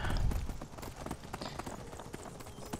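A horse gallops through Skyrim, its hooves beating out a quick, steady clip-clop rhythm up close, with a brief louder thud at the start and no voice over it.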